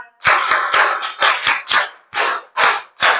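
Schoolchildren at a classroom general-knowledge quiz clap together for the Mogra team in a steady rhythmic pattern of about eight loud, close bursts of group clapping.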